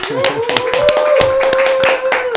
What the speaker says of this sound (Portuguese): Recebam com forte aplauso Ricardo Oliveira